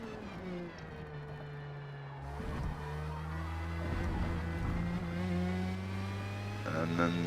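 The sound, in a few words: Formula Mazda race car engine in Forza Motorsport video game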